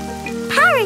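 A cartoon rain sound effect patters as a steady wash beneath a character's voice, which rises and falls briefly over it near the end.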